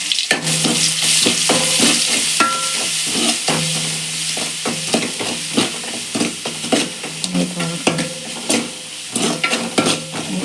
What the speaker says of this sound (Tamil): வெங்காயத்தை போட்டுருக்கேன் போட்டு நல்லா வதக்கணும்